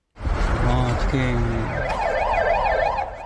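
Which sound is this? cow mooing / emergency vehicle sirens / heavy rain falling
emergency vehicle sirens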